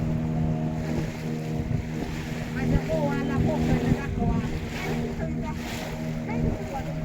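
Boat cruising on water during a pleasure outing, a steady engine drone with wind and water wash, and voices talking and calling over it.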